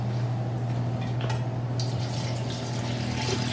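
Milk poured into a roux in a pan for macaroni and cheese, a soft continuous liquid splash and gurgle over a steady low background hum, with no talking.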